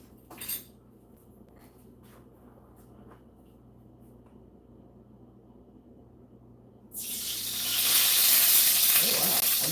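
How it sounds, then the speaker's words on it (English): Two tablespoons of oil go into a hot frying pan for a tofu-vegetable stir-fry, a faint clink early on followed by quiet, then a sudden loud sizzling hiss that builds and holds to the end. "put 2 tablespoons of this oil into the frying pan"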